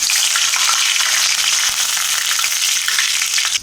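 Mustard seeds, fenugreek, cumin and curry leaves fry in hot oil for a vatha kuzhambu tempering, giving a loud, dense, unbroken sizzle throughout.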